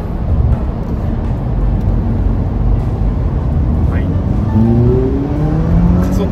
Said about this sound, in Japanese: 制限速度内で加速する映像